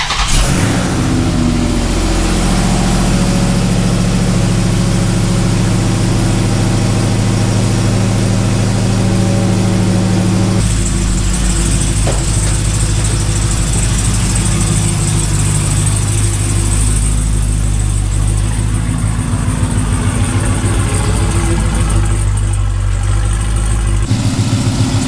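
A Hellcat V8 swapped into a Dodge Dakota pickup runs loud and close, a deep steady idle that shifts in tone partway through, with no talk over it.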